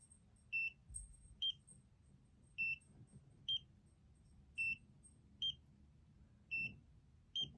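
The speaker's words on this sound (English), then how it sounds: "Notice that the pause in between the beeps is much quicker." A handheld beauty device on level 3 gives short, bright electronic beeps in quick pairs, repeating at a steady rhythm with brief pauses, close and clear above a faint low background hum.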